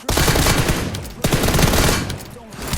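Automatic gunfire from the PUBG Mobile video game comes in two loud, sustained bursts with a short break between them, with faint game sounds behind.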